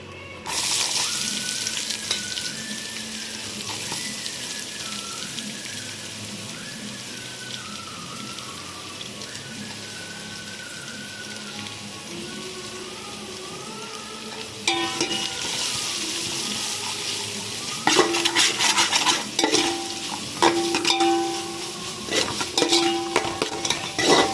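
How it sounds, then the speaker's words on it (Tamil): Onions sizzle steadily in a pan for a kalan dum biryani, with a constant frying hiss and scraping stirs that grow louder and more frequent toward the end, without talking. "இப்போ ஆனியன் சேர்த்து நல்லா வதக்கிக்கலாம்."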